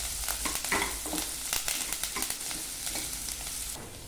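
Onion, green chilli and curry leaves frying in a pan over medium flame, a dense continuous sizzle with scattered sharp crackles and spatters throughout.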